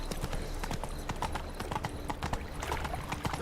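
Roach the horse's hooves clip-clop in a steady running gait in The Witcher 3 video game, loud and continuous for the whole stretch, with faint game voices and ambience underneath.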